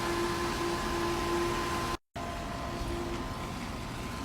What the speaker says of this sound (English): Motor sounds super quiet.